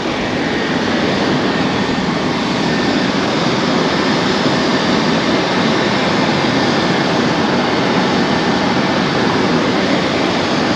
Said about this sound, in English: the helicopter is landing in this parking lot